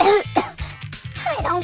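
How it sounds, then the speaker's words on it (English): Several harsh coughs and throat-clearing bursts from a person feeling unwell, close and loud, coming in a quick irregular series with short gaps between them. "Don't cough on the cardboard."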